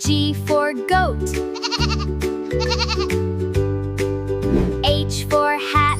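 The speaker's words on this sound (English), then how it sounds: "G for goat." A cartoonish goat bleats a few times in wavering cries over a bouncy musical backing, the bleats loud and close.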